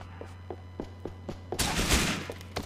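Gunfire from a sniper rifle in the video game GTA IV: a series of evenly spaced soft thumps, then a loud, broad blast burst near the end, with a steady low game hum underneath.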